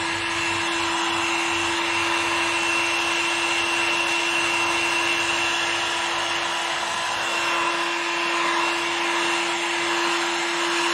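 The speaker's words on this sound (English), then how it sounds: "use a heating gun just to make sure that all that's dried up" Heat gun blowing hot air to dry a restored Mercedes W204 headlight lens, a steady, fairly loud whirring hum with a constant motor whine that runs unbroken for the whole stretch.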